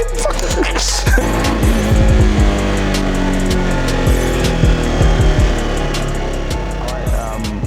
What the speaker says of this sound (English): This is my 1997 Suzuki Carry with a slightly different engine combination.